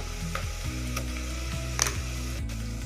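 Onions and green chillies frying in a pan for chicken pulao give a steady close sizzle under a low humming drone, with a few brief scraping stirs and no talking.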